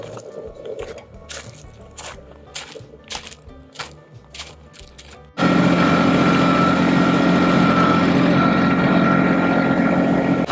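A farm tractor engine starts roaring abruptly halfway through, a loud steady drone while driving a circular driveway on a rural property, preceded by quieter rhythmic clunks and rustling.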